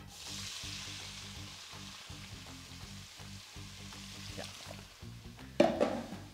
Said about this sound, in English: We're gonna wait until we hear that sweet sound of